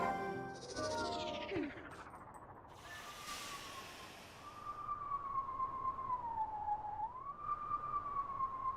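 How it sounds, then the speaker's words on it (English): Song of Healing melody from the Legend of Zelda: Twilight Princess video game, a soft sustained tone gliding and wavering through a few notes after a brief swept electronic sound, alone and fairly quiet. "Oh, it's the Song of Healing."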